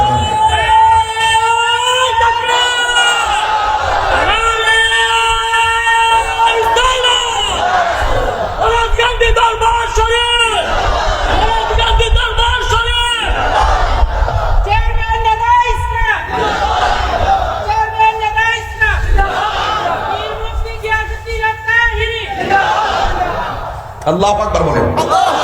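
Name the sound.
crowd chanting a religious slogan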